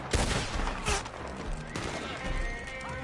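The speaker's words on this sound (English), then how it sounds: "Oh shoot, I just shot the bear" Gunfire in Red Dead Redemption 2 during a fight with enemies near a bear, a burst of several sharp shots with crashes and rumbling echoes over about three seconds, loud and close.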